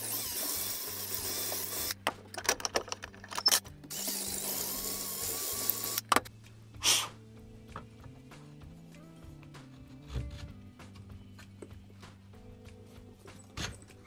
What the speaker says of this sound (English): I got both of these guys drilled all the way through